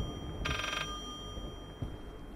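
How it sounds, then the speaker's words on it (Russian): An invisible telephone ringing in the horror game Layers of Fear, a single short bell trill in a quiet, humming room, fairly faint and alone with no speech. "Невидимый телефон звонит."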